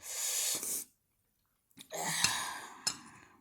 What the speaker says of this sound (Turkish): Hapşırıyorum bu arada.